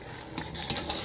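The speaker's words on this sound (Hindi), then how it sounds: "अभी मैं इसको दाल को थोड़ा और ज़्यादा मैश करूँगी" Cooked dal being stirred and mashed in a pot, a close, soft, wet scraping and squishing across one short continuous stroke.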